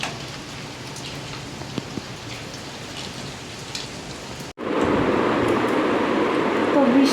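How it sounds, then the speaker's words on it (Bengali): Light drizzle falls after heavy rain, making a steady soft hiss of drops on surfaces. It grows denser and louder in the last few seconds. "এখন যদিও বৃষ্টির বেগটা একটু কমেছে, এখন ঝিরিঝিরি হচ্ছে"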